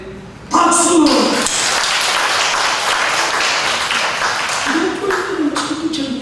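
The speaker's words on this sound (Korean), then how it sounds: "박수!" A church congregation at a Korean Sunday worship service breaks into loud, sustained clapping lasting several seconds, with a voice speaking before and after.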